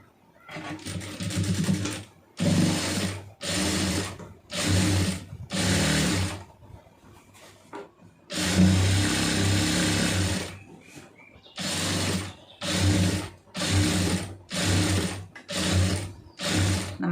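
A sewing machine stitches a round neckline on a garment, running in repeated loud bursts of a second or so separated by short pauses, with one longer continuous run in the middle.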